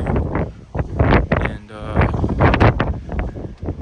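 Gusty wind buffets the microphone in rumbling bursts while a person talks over it, the low roar rising and falling.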